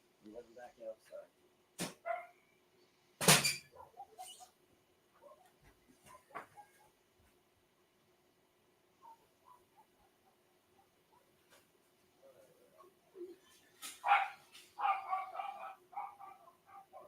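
Dogs barking indoors in scattered sharp bursts, some loud and close, separated by quiet gaps, with a cluster of yips near the end; someone talks between the barks.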